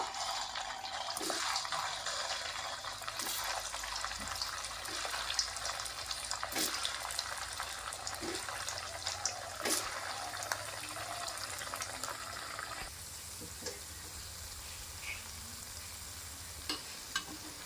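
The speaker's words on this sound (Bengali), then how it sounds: "একইভাবে এগুলো আমি ভেজে নেব" Chira (flattened rice) pakoras deep-frying in hot oil, a steady soft bubbling sizzle with scattered sharp clicks and taps of a utensil, fairly quiet and continuous with no talking.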